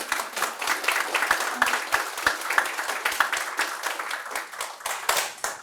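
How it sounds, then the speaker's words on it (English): Applause from an audience at a CurePSP event in Texas, a lively wash of individual hand claps sustained evenly throughout, close and clear. "So claps all around."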